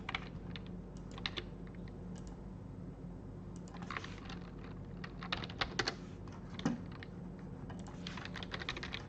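Someone types on a computer keyboard during a Linux user-setup lesson: quiet, irregular clicking keystrokes in short bursts over a low background hum, with no talking.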